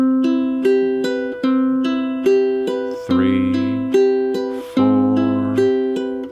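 A ukulele is fingerpicked in an even, rolling Travis picking pattern over ringing major 7th chords. The chord shifts partway through, with no voices.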